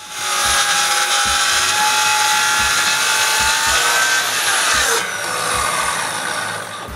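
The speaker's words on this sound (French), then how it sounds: "Je le retourne et je coupe le tout à bonne largeur." A power saw whines steadily and loudly ripping wood boards to width in a workshop, with regular low thumps underneath as the cut continues without pause.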